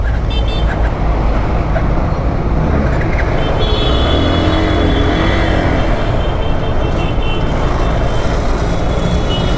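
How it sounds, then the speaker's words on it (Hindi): Dense city road traffic in Mumbai rumbles loudly and continuously, with engines, a passing horn or two and muffled voices blended into the steady roar. "अरे यार कहाँ फंस गए यार ट्रैफिक में"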